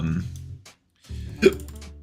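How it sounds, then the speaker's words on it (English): A person's sudden hiccup, a short sharp vocal catch just after a brief pause, with speech-like voicing before and after it. "why have I got hiccups all of a sudden?"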